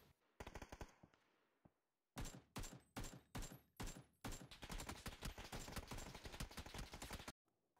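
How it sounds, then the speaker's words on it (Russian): An AKM assault rifle fires in the PUBG video game, with one short burst, a string of separate rapid bursts, then a long sustained automatic volley, all loud and close. "Автомат Калашников. Настоящая классика шутеров."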